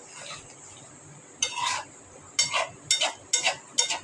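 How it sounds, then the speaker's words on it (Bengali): Shukto is stirred gently in a pan with the flame off: a few separate bursts of spoon scraping and clinking against the pan, near and moderately loud over a quiet background, no talking. "নেড়ে চেড়ে নেব।"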